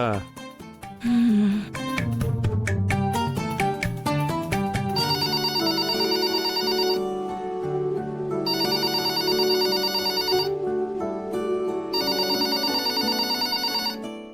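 A telephone rings in a family drama scene, sounding in long repeated bursts with short pauses between them, after an opening stretch of music and talk.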